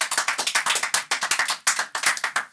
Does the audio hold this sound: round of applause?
yes